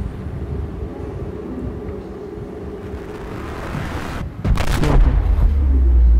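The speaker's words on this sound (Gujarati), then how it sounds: "બહાર ધમાકો થયો છે" An explosion outside in the underwater survival game Subnautica: muffled, low ambience gives way to a sudden loud blast about two-thirds through, followed by a deep, sustained rumble that stays loud to the end.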